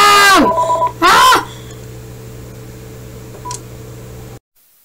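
Two loud bursts of a phone tone sound in quick succession, then a long faint steady hum with a tiny blip near the end before it cuts to silence.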